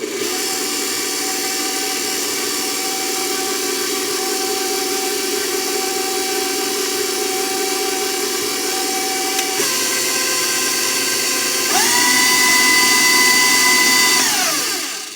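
Electric mixer whirring steadily through apple brownie batter, a loud continuous motor drone that shifts pitch and speeds up near the end before winding down.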